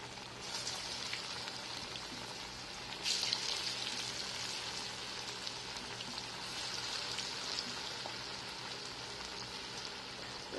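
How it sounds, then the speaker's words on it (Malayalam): Falafel balls frying in hot oil over medium heat, a steady crackling sizzle like light rain that rises briefly at one point and carries on evenly, close and fairly quiet with no voices. "നമുക്ക് ഈ ഉരുളകൾ നമുക്ക് ചൂടാകിയ എണ്ണയിലേക്കിട്ട്"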